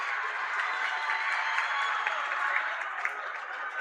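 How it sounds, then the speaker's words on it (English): Home crowd at a high school boys basketball regional quarterfinal game cheering and clapping in a gym, a steady, dense roar of applause and voices lasting throughout. "The Potosi Cassville crowd coming alive."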